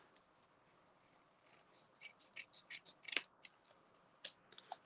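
Scissors trim card stock for a handmade birthday card, a quiet series of crisp, short snips and slicing cuts that grow quicker and denser toward the end.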